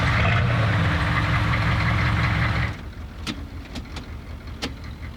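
Detroit V8 turbo diesel swapped into an '83 Chevy G20 shorty van, a loud rumbling diesel roar that suddenly drops to a quieter idle with a few sharp clacks and knocks.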